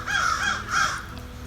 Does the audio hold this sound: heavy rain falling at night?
no